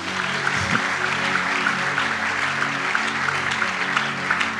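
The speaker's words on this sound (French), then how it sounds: "Acclame bien, on va commencer." A church congregation applauds, producing a sustained wash of clapping that stays at an even level throughout, with a few faint voices mixed in.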